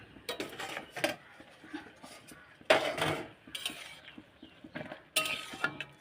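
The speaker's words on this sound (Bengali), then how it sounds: "ঢাকাটা এবার তুলে নেবো" A metal lid lifted off a cooking pot of simmering jute leaf (pat shak) curry, a few light clinks and scrapes of metal against metal, close and fairly quiet.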